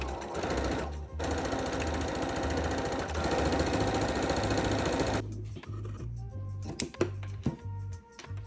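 A sewing machine stitches the leg seams of cosplay pants in a fast, steady mechanical whir, close and continuous. It pauses briefly, runs for about five seconds, then stops and sputters into short bursts and handling clicks.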